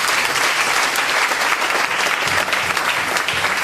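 A church congregation applauds loudly during a French-language service, a steady, dense roar of many hands clapping throughout, close and full.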